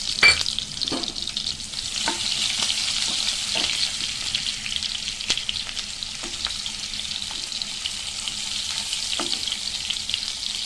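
Mustard seeds and finely chopped onion frying in hot oil for bitter gourd pulusu, a steady close sizzle with scattered sharp pops and crackles throughout.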